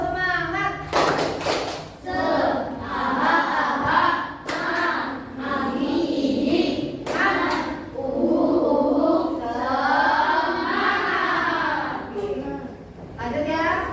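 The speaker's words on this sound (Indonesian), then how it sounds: "Ya, yuk, tepuk semangat." Sixth-grade students in an Indonesian class perform a rhythmic tepuk semangat chant, sharp claps and thumps in patterned bursts mixed with children's chanting voices.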